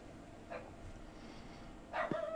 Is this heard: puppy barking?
yes